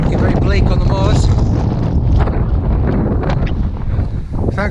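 Strong wind buffets the microphone on bleak, open North York Moors ground in December, a loud continuous roar with gusts throughout, and a voice talks partway through.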